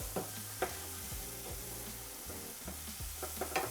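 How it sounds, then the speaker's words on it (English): Balsamic vinegar deglazes a hot pan with a steady, close sizzle and hiss, broken by several sharp utensil scrapes and taps against the pan bottom, with no voices. "Deglazing will remove any of that caramelized goodness off the bottom of the pan."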